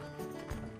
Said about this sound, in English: try out our skills with the horse and carriage